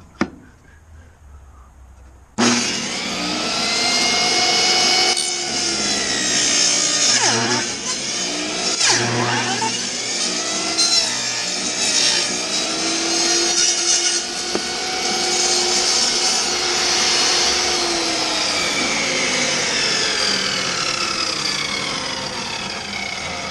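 A saw cuts steadily through a piece of wood being shaped into a hammer handle, a loud continuous rasping stroke sound that starts abruptly after a brief quiet moment and runs to the end.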